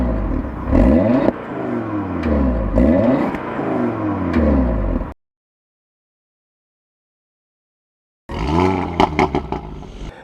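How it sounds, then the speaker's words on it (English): A 2022 Audi TT RS fitted with a petrol particulate filter revs hard in two loud, close bursts of rising and falling engine note, with a few seconds of silence between them and no talking. "I will dub in a clip of the exhaust noise"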